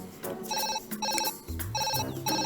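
A cartoon telephone rings in repeated bursts of bright electronic trills, loud and close, with a low sliding musical tone partway through and no talking.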